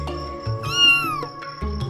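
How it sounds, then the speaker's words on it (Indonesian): A cat meows loudly once, a drawn-out rising and falling cry, over a busy background of music and other sounds. "Ini suara kucing, Kun."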